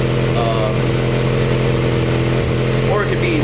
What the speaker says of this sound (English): I got a fucking huge exhaust leak.